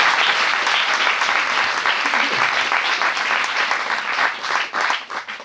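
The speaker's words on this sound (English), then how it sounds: "Let's say give them another round of applause" Audience applause for panelists at a climate change talk, a loud, dense, sustained wash of clapping from a crowd that thins slightly near the end.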